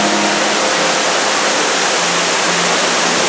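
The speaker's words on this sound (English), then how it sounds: "we are directly in front of the waterfall" Ruby Falls, an underground waterfall inside Lookout Mountain, roars as a dense, constant broadband rush of falling water, heard close up and loud without pause.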